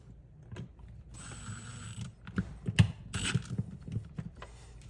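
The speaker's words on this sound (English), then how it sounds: "Snap on like so, and we'll tighten this screw and the other screw." A screwdriver tightens two screws on a snap-on TV cable cover, giving close creaking, ratcheting clicks and a few sharp squeaks against quiet room tone.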